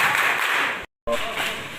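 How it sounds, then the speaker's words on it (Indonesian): Students clapping their hands along with a children's action song at a campus literacy seminar, a steady crowd of claps with a brief gap in the middle, sung voices mixed in throughout. "Kalau kau anak cerdas tepuk tangan."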